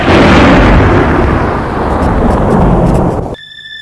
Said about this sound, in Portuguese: Subitamente, do céu claro, ouviram o som de um trovão.